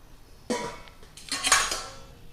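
Steel and brass plates and utensils are handled up close, giving two bright bursts of metallic clinking and clattering with quiet pauses between and no talking.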